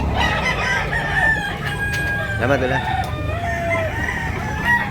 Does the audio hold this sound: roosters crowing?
yes